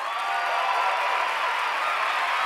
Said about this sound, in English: Now let's give a round of applause for another round to Mark Beltzman